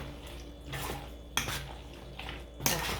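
Chicken macaroni salad being stirred in a bowl, with a few separate bursts of scraping and clinking from a utensil against the dish, quiet between strokes.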